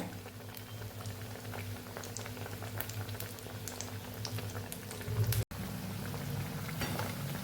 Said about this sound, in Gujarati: ગોલ્ડન બ્રાઉન કલરનો થઈ જાય ત્યાં સુધી આપણે એને તળવાની છે